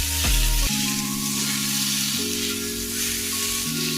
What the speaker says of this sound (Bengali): এর মধ্যে আমি ভেজে রাখা গাঠি কচু আর ভেজে রাখা আলু সেদ্ধটা দিয়ে দিলাম, দিয়ে ভালোভাবে মশলাটা মাখিয়ে নিচ্ছি।